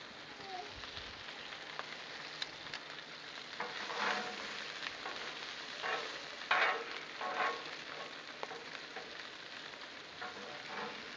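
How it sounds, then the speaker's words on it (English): Peppers sizzle in butter on a Blackstone griddle, cooked for Italian sausage subs: a steady close-up frying hiss with brief louder crackling bursts as they are stirred, and no talking. "put a little butter down for these peppers. Grab a handful of them, throw them on there."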